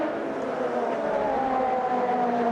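A 900bhp Group C race car engine in the racing game Automobilista 2, heard from outside the car as a steady, sustained engine drone with a faint rising pitch.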